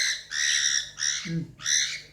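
A cockatiel and budgies squawking loudly and harshly in three bursts with short gaps, and a brief low grunt-like sound in between; no talking.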